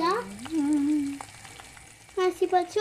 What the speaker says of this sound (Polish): już jajka nam się też smażą